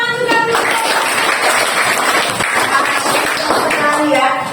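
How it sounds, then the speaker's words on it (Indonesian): Children in a classroom clap together during a Christian religious lesson on forgiveness, a dense burst of handclaps mixed with young voices, steady and loud for several seconds. "Oke, tepuk tangan juga."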